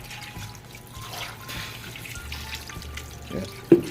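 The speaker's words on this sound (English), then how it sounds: "We'll just use some filtered water here." Filtered water pours into a pot of Guyanese pepperpot with meat in it, a soft, close trickle and splash running steadily, ending in a sharper clunk.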